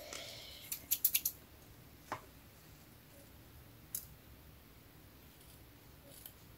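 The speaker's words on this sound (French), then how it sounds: "je vais recouper comme il faut avec le ciseau" Scissors snip a few times while a tea and herbal infusion advent calendar is being crafted. The quiet, quick clicks bunch together near the start, and one or two isolated snips follow in an otherwise hushed room.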